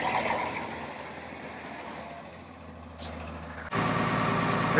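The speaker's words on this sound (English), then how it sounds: "And there's the truck." A concrete truck arrives at a house footing pour beside a lake, its engine rumbling steadily. A sharp air-brake hiss follows, then a louder, continuous mechanical roar, with no talking.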